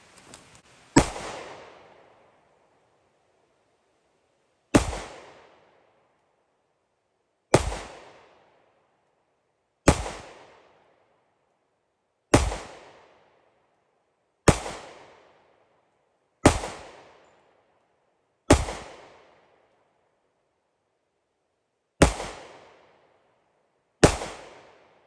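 Ten single shots from an FN FNX 45 Tactical pistol fired at a target, each a sharp loud crack with a short decaying tail, spaced a few seconds apart with silence between.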